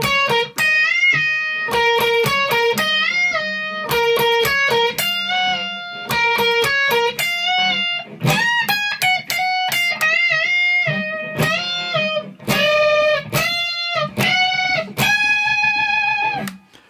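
Electric guitar solo from a song, played as a clear, sustained lead line of bent and held notes with effects, running continuously and loudly for the whole stretch with no talking.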